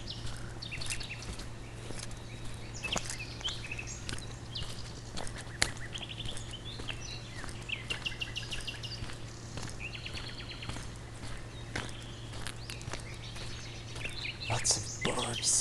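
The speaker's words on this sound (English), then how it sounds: "Lots of birds." Many birds chirping and singing outdoors on soft ground, a steady scatter of faint distant tweets and calls over a low background hum, with occasional louder nearby chirps.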